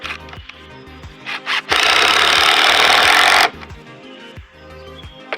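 A power driver sinks a T25 deck screw into wood in one loud, steady burst of close mechanical whirring lasting under two seconds, framed by lighter clunks and handling knocks before and after.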